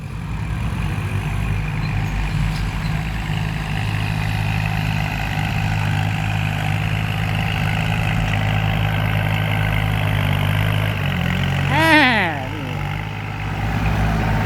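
A turbocharged Kubota L3608sp tractor engine runs at a steady idle, a close, constant low drone with a brief rising whistle near the end, while someone talks over it.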